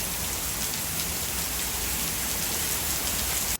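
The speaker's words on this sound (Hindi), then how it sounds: "बहुत तेज़ बारिश हो चुकी है इस वक्त तो भाई।" Heavy rain pours steadily in a dense, even hiss that holds at the same level throughout, then cuts off abruptly at the very end.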